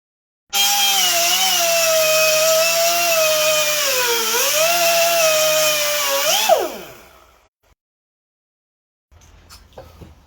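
A power saw cuts down a tongue-and-groove building piece with a loud, steady whine that wavers in pitch as the blade bites, lasting about six seconds before spinning down, followed by a few faint handling knocks.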